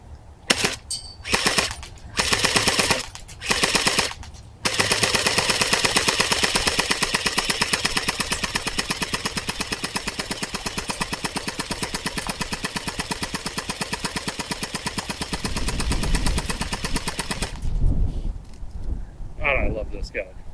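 An airsoft gun with its hop-up turned up fires in long continuous full-auto bursts, loud and close, with short stops between the early strings, then a rumbling pause and softer handling noise at the end.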